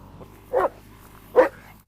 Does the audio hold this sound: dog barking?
yes